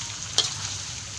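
Meat for sate padang sizzles softly in a pan, a steady frying hiss broken by one brief sharp scrape of stirring, with no voices.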